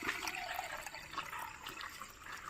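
Warm salt water being poured into a jala neti pot for yoga nasal cleansing, a steady splashing and trickling pour that runs continuously and close for a few seconds with no talk.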